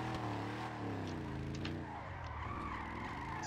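A rear-wheel-drive pickup truck drifts with loud, continuous tire squeal and skidding, the engine droning underneath close by throughout.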